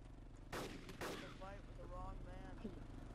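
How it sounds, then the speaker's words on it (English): Two loud bursts of gunfire in the video game ArmA 2 crack out in quick succession over a steady electronic hum, followed by fainter rattling shots and a voice talking underneath. "Gunshots."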